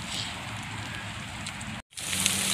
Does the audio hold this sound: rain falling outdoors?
yes